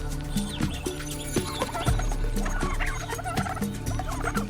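An Australian brush turkey calls in the wild, a series of close, loud gobbling clucks repeated in short bursts over a busy natural background, with no one speaking.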